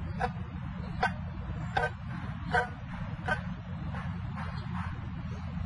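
Several short, distant dog barks ring out at irregular intervals over a steady low rumble, with no talking.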